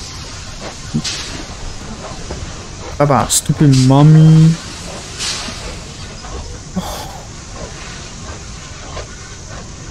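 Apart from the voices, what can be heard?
choo-choo train in Poppy Playtime Chapter 2 video game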